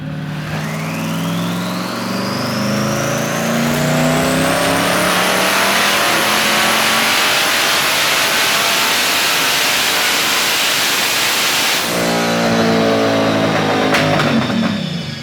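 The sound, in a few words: twin turbo V8 RWD Honda Civic revving on a dyno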